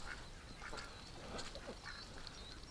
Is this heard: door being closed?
no